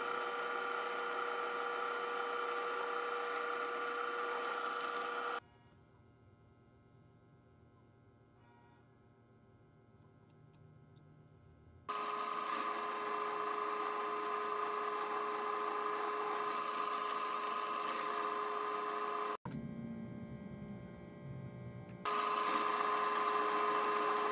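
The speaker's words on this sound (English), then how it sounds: "I'm using a tiny drill bit in my new drill press to drill these holes perfectly perpendicular through each block of wood" A new drill press with a tiny bit boring holes through small wood blocks, a steady whining motor tone running in long stretches, broken by quieter pauses between holes.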